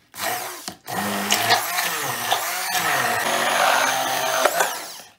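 A kitchen blender whirs loudly and steadily, puréeing potato with mussel broth for a parmentier, after a short start-stop at the beginning, with no talk over it.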